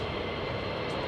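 RAF Nimrod maritime patrol jet passing over RAF Lakenheath, a steady broadband engine roar that stays loud and even throughout, with no talk over it.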